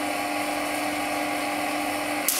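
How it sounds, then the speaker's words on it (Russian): A Tesla generator switched on for an electric discharge gives a steady high-pitched electric whine and buzz with a sharp crackling burst at the very end. "включаем генератор"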